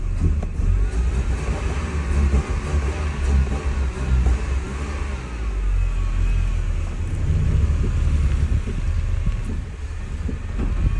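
A Mercedes-Benz 190E that has sat unused for years, running on old fuel, rumbles along with a steady low engine drone and road noise, heard from inside and close, with no talking.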